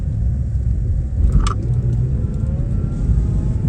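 A manual car's engine revs hard from too much gas while a beginner fumbles the clutch, a steady loud rumble with a brief sharper surge partway through.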